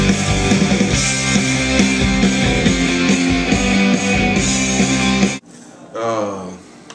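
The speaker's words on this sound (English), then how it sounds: "Using some wah-wah pedal." Electric guitar run through a wah-wah pedal in a recording session, a dense, sweeping filtered tone over a full band mix, cutting off abruptly near the end.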